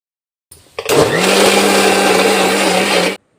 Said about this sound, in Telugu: ఇంకొక రెండు సార్లు బ్లెండ్ చేసుకుందాం